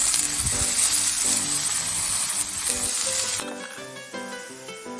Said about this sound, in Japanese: 油が温まったらキャベツを炒めて